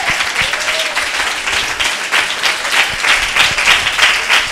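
A church congregation claps, many hands in a loud, continuous roomful of applause with a slightly rhythmic pulse, running steadily from start to finish.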